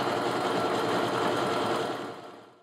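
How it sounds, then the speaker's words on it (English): A sewing machine runs steadily, stitching a fabric strip set as the feed dogs pull the fabric along, a loud continuous whir that holds for about two seconds and then winds down. "And then I'll just let the feed dogs pull the fabric and my finger up"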